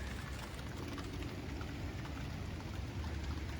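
Soft, steady patter of rain, fairly quiet and continuous, with a low rumbling wash underneath and no talking.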